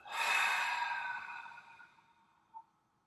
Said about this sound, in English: Breathe in from the bottom of the belly into the chest, the throat.